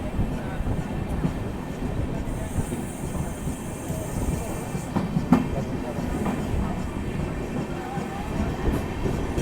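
Amrit Bharat Express hauled by a WAP-5 locomotive accelerating out of Danapur station, heard from on board: a steady, loud rumble of wheels and carriages with faint rhythmic clatter throughout.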